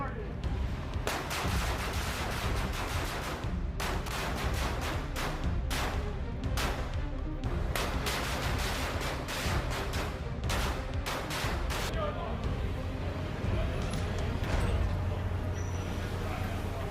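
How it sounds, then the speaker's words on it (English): Rifle fire at a military shooting range during drills: a rapid series of sharp, loud, dense gunshots with uneven gaps, fading out toward the end into low rumble. "The shooting continued in rotation. One group firing, the next group loading magazines,"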